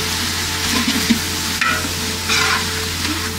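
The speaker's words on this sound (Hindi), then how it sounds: "सारा मसाला भून गया और तेल भी हमारा ऊपर आ गया" Masala spices frying in oil for chicken haleem, a steady close sizzle with bursts of crackle and the scrape of stirring running throughout, with no voices.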